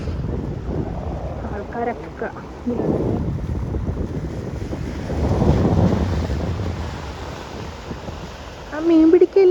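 Strong sea wind buffets a pier where boats are moored, a continuous rumbling roar swelling in gusts, with a voice speaking briefly near the end.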